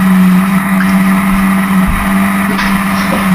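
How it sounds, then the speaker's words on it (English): Historic Formula Ford race cars at Brands Hatch in 2014 drone past in a steady, loud engine roar with a strong sustained tone and small pitch shifts, several cars close together. "You see battles all the way through the field in historic Formula Ford racing."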